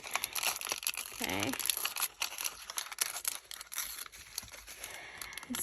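Paper being torn by hand while working on a bird journal, a run of dry ripping and crinkling close by through the whole stretch, with a brief spoken word in the middle.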